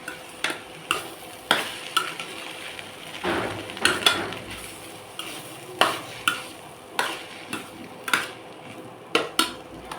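A snake gourd stir-fry with grated coconut is turned in a pan, giving repeated soft scrapes and clinks of a spoon against metal at an uneven but steady pace, close and moderately loud.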